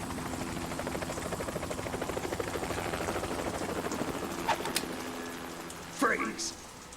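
A helicopter's rotor in Metal Gear Solid 2 thumps in a steady rapid chop throughout, with brief clanks and a voice breaking in near the end.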